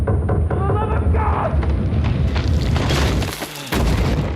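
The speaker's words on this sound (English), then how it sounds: "Yeah, cannon of that size." A large cannon blast strikes a castle in Kingdom Come Deliverance II, a loud, dense booming rumble with crashing debris, sustained for several seconds before a brief dip and a renewed roar.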